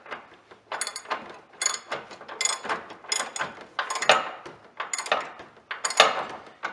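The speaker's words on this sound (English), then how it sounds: "Get up in there with that ratchet." A ratchet tightens a fine-thread nut on a winch being mounted to a 2016 Jeep Trailhawk, with repeated close, raspy back-and-forth strokes in a steady rhythm of about one pull per half second.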